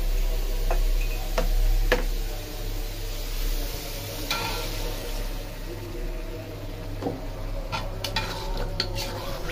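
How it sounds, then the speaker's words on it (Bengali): Milk cooks in a pan over a fried spice base, giving a steady soft bubbling sizzle with occasional sharp clinks of a utensil against the pan, close and continuous. "কষানো হয়ে গেছে, দুধটা দিয়ে দিই ঢেলে।"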